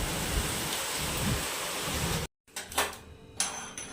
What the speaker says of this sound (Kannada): ಅಷ್ಟು ಜೋರು ಗಾಳಿ ಜೊತೆ ಮಳೆನೂ ಕೂಡ ಬರ್ತಾ ಇದೆ.